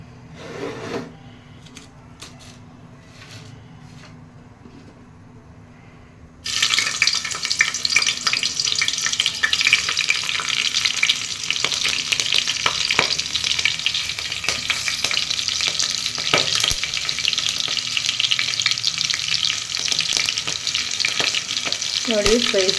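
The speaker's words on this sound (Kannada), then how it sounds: "ಈಗ ನಾನು ಸ್ಪೈಸಸ್ ಎಲ್ಲ ಒಟ್ಟಿಗೆ ಹಾಕ್ತೀನಿ." Whole spices with bay leaf, star anise, fennel, green chilli, tomato and onion dropped into hot oil in a pan for donne biryani, a quiet scrape giving way to a sudden loud, steady sizzle that continues alone.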